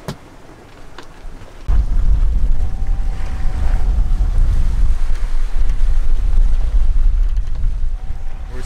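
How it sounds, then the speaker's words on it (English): A sailboat moves through a narrow channel between reefs, with steady loud wind rush and water noise buffeting the microphone, starting quieter and then swelling to a constant roar. "Sailing in a channel between reefs now."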